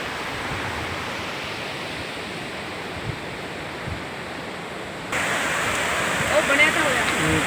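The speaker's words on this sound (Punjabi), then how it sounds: "ਝਰਨਾ ਪੂਰੀ ਸਪੀਡ ਨਾਲ ਪਾਣੀ ਆ ਰਿਹਾ" A mountain waterfall in Uttarakhand, near Gurudwara Govind Dham on the Valley of Flowers route, pours at full force as a continuous rushing roar that grows noticeably louder partway through.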